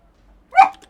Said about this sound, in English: You don't need to bark at your toys.